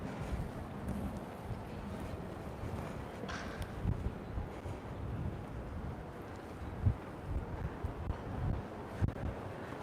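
Wind blowing along the seafront between Cala Millor and Cala Bona in Majorca, a continuous low rumbling buffet against the microphone with gusty swells, steady and fairly quiet, no talk.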